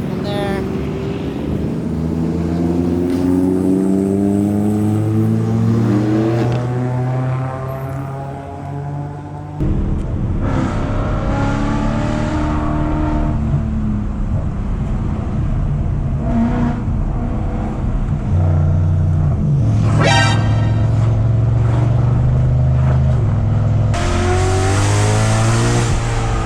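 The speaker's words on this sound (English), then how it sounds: "We got a whole squad of cars coming right here. There's 2 Evos," A squad of cars including two Mitsubishi Evos drives past on the Tail of the Dragon road at Tougefest 2022, engines revving loud and near with rising and falling pitch as they pass one after another.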